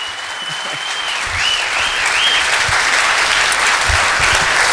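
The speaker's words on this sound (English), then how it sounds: "One more round of applause for Dan Orr and Mike Conley." Sustained audience applause fills a comedy benefit show, loud and steady from start to finish, with a faint whistle rising briefly near the beginning.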